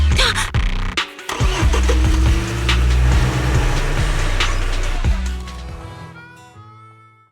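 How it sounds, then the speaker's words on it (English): A truck engine in a video game turns over and rumbles to life, loud and close, with a rough idling growl that fades away at the end. "Piper, start the truck."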